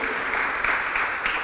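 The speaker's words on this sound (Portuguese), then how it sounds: "Você pode dar um aplauso a Ele?" A church congregation claps during a sermon, a dense, steady wash of applause with small swells, filling the whole moment without pause.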